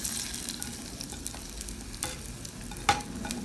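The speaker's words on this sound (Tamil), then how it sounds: "அடுத்ததாக வெட்டின வெங்காயம், பச்சை மிளகாய் எல்லாத்தையும் ஒன்றா போடுவோம்." Chopped onions and green chillies tossed into a hot pan for a Jaffna-style ground fish curry, with a steady low sizzle and faint scraping stirs, plus one sharper clatter near the end.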